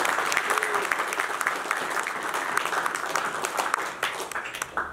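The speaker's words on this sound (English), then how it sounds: "So please give them a big round of applause." Dense, steady applause from a press-conference audience at a Matrix Fight Night 11th Edition event, close and continuous for the whole stretch with no talk over it.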